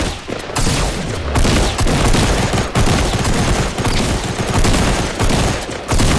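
Video game gunfire from sniping, a loud, dense barrage of cracking shots hammering almost without pause, near and harsh, with brief dips between clusters.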